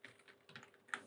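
Brisk computer keyboard typing of a short command, a rapid run of close, crisp key clicks ending in one louder keystroke, with no voices.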